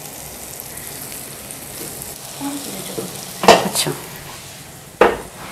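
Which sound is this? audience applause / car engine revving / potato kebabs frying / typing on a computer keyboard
potato kebabs frying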